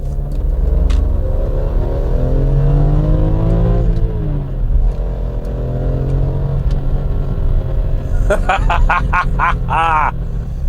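A BMW M3 E46 with its naturally aspirated 3.2-litre S54 inline-six rumbles and revs, engine tone rising and falling in sweeps from inside the car, with a sharper burst of revving near the end.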